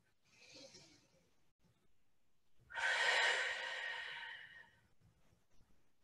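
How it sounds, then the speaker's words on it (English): Deep, slow breathing during a yoga cat-cow stretch in a knee-strengthening flow: a soft breath in, then a long, close, breathy exhale that fades gradually. "Take a nice deep breath"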